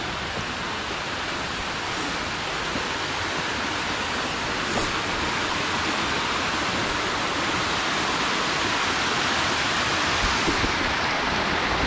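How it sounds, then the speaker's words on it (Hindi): Small waterfalls and hill streams near Nilam Sarai in Bijapur district, Chhattisgarh, give a constant, even rush of falling water, close and unbroken for the whole stretch, with no talking. "ये छोटे छोटे झरने,"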